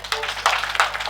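A church audience claps hands, a brief patch of steady, moderately loud applause with overlapping claps and no clear individual rhythm.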